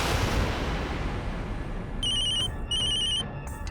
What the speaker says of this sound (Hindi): ऋषभ का फोन।